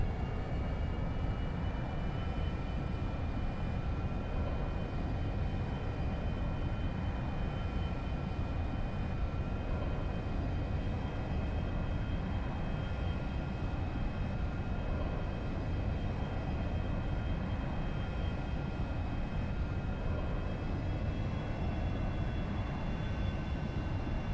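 A Cirrus SF50 jet on final approach in the X-Plane 11 flight simulator gives a continuous, even engine drone with a faint steady whine above it, unbroken and without speech.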